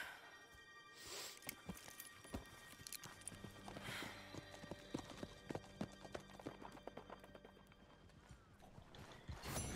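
Horse hooves clip-clop in the Red Dead Redemption 2 video game near a burning barn, a series of uneven clopping strikes mixed with a brief whinny and other game sounds, moderately close.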